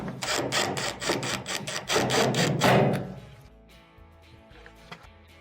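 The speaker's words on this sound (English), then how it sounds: "then use the drill" A power drill drives Phillips screws into a dryer's control console, giving a close burst of rapid rattling pulses for about three seconds before dropping to quiet scattered handling taps.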